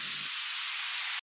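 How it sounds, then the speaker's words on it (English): A bright, airy noise sweep hisses loudly for just over a second, with a low thump at the start, then cuts off abruptly to silence. "And then for the fills, we have a downlifter"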